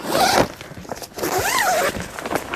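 A camping tent's zipper is pulled open in a few quick, close rasping strokes, loud and alone apart from faint rustling.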